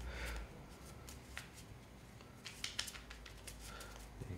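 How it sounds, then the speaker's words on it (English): Pokemon trading cards are shuffled by hand during a game, soft riffling patter in several quick bursts, faint and close, with no talk over it. "can see, my shuffling skills aren't very good."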